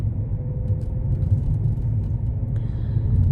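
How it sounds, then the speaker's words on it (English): Inside a moving car, a steady low rumble of engine and road noise carries on without break, loud and even, with a faint higher whine joining near the end. "So we are now in the car going to the cash point to get some cash"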